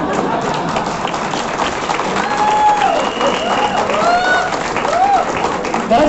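An audience applauds at a Vestige leaders event, with sustained clapping and crowd noise throughout and several thin rising whistle-like tones cutting through.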